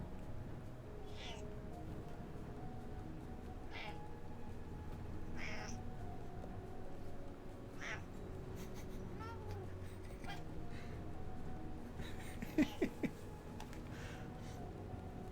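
A pet cat gives soft, quiet meows and tiny squeaks indoors, several brief calls spread across a steady low room background, with a few faint clicks near the end.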